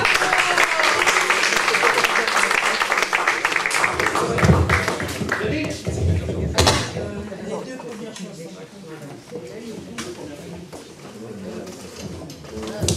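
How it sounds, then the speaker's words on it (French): Audience applause at an Afro-themed evening event, loud and dense for the first few seconds, then thinning into scattered claps and crowd murmur with voices talking over it. "je vous demande de l'applaudir, s'il vous plaît"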